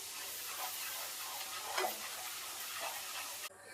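Gram flour and semolina roast in a pan over a low flame for moong dal halwa, giving a steady soft sizzle with light stirring scrapes, close and quiet.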